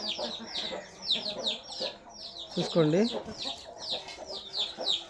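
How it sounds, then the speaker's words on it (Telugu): Heavy-sized breeder hens cluck repeatedly close by while a rooster calls once in the middle; someone speaks briefly over the birds. "ఇదిగోండి బ్రీడర్సు బ్రీడర్సు పెట్టలు పుంజులు"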